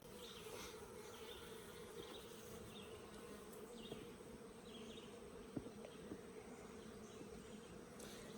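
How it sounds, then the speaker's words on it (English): A soft, continuous hum of many honey bees buzzing inside a hive, steady and fairly quiet with no voices. "We're going to see a lot of bees"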